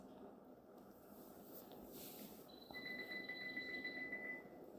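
A steady electronic beep tone rings out in the second half, repeating as a high pulsing note over quiet background hiss and faint murmuring.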